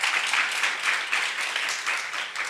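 An audience applauds a panel at a conference on women in IT and digital careers, giving dense, steady clapping close by that pulses slightly throughout with no voices over it.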